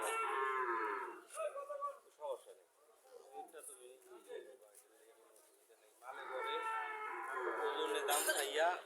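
A desi cow at Chowara cattle market in Cumilla moos twice, with a long, loud, close-up low at the start and another drawn-out moo near the end. Quieter talk and market noise fill the gap between them.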